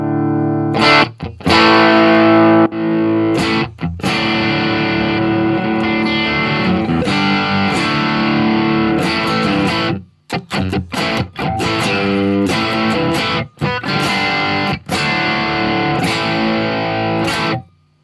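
Electric guitar played through an M-Vave amp modeler set to a Champ amp model, a loud distorted tone with ringing chords and choppy stops and restarts, sustained for a long passage with no talking.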